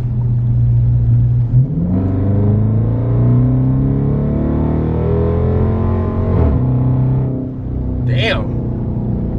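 A 2019 Dodge Charger R/T accelerating on a road, heard from inside the car as a loud, rising engine drone through changing gears, with a brief dip and a voice near the end.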